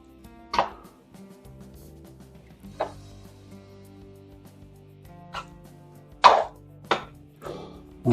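A spoon stirs a pot of bear and beer chili, giving a few scattered, soft clunks and scrapes against the pot over a quiet background.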